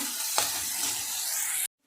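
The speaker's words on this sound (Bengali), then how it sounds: "তো পেঁয়াজটাকে আমি খুব ভালো করে ভেজে নেব" Onions frying hard in a pan for a Bengali cauliflower dish give off a steady, loud, close sizzle with a brief sharper crackle early on, cutting off abruptly near the end.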